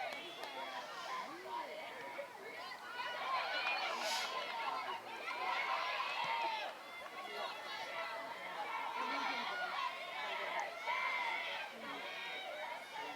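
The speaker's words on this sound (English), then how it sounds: "Westwood bench, they are in mid-season form right now, cheering on their teammates, very vocal." Westwood's bench at a girls soccer game against Holliston keeps up sustained, lively vocal cheering and chatter, a busy wash of overlapping young voices that rises and falls without a break.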